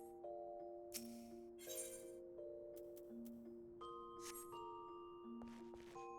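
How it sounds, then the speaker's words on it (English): In Final Fantasy XIV, a summoning bell gives soft, clear chimes, several bell tones ringing out and sustaining in sequence under quiet background music, faint and distant with a few brief bursts of other noise. "That's the summoning bell."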